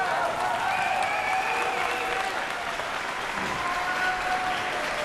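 Crowd applause at the 2001 Canadian Junior Curling Championship, a steady, dense wash of clapping from an arena audience that holds at an even level for the whole stretch, with faint voices mixed in.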